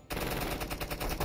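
Suppressive machine gun fire in the Door Kickers 2 video game: a fast, loud, rhythmic burst of rapid shots that starts abruptly and continues to the end.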